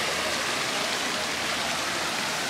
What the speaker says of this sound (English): I'm going to go under the waterfall.